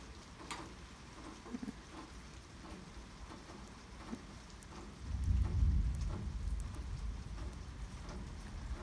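Steady rain patters softly, then a deep rumble of thunder swells in and lingers, low and heavy beneath the rainfall.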